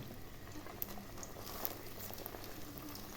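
Slices of bread fry in a hot pan for French toast, a constant crackling hiss with occasional sharper pops, close and fairly quiet.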